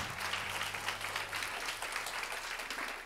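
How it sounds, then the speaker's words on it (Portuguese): Audience applause at a motivational talk, a steady wash of clapping from a crowd with a low hum underneath, moderately quiet and continuous. "Palmas aí para esse cara"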